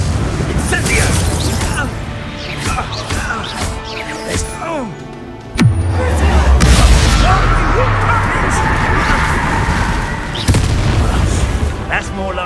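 Incendio fire spells go off in the Hogwarts Legacy video game as booming bursts, with one heavy blast midway and more rumbling explosions after, under shouted character dialogue and spell casting.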